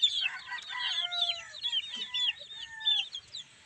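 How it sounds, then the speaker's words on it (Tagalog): High-pitched chirping from a group of chicks cheeping, continuous and overlapping at moderate volume with no talking. "O mga sisiu."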